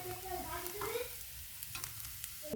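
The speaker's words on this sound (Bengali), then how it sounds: "এরপর ম্যাগি মশলা দিয়ে ভালো করে নেড়ে চেড়ে নেব।" Boiled chowmein noodles with egg and Maggi masala get tossed in a hot pan, giving a close, continuous sizzle with quick scraping strokes and a few light taps of the utensil.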